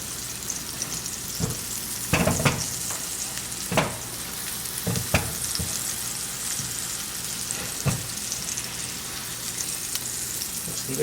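Salmon sears in a hot pan turned up to about eight on the stove, giving a steady close sizzle with scattered crackles and pops across the whole stretch and no talk.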